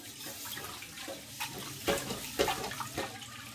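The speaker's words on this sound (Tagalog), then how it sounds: "hugasan kagad natin yung mga kawali natin" Frying pans being washed under running water from a tap, a steady faint stream with several clattering knocks and splashes as the pans are handled.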